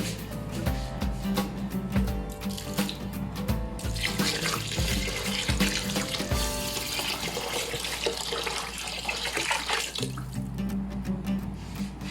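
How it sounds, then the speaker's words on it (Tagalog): Water runs steadily from a tap into a basin for several seconds while cooking mutton mandi rice, a close continuous splashing rush with a few knocks and clatters early on. "Lagyan din natin ng tubig."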